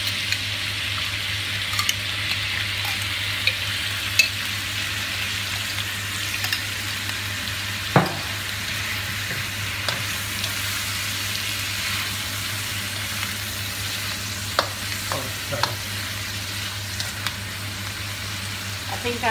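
Tomato onion paste frying in a pan, a steady close sizzle with occasional scraping taps of a spoon stirring, continuous and even with a low hum underneath and no talk.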